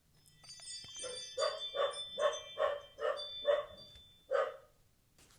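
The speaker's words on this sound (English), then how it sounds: "That's the window cleaner at the door, in case you're wondering why Chester's barking" A dog barks at a window cleaner at the front door, a run of about seven sharp, evenly spaced barks, fairly close and loud, with no talk over them.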